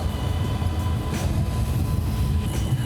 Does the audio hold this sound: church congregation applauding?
no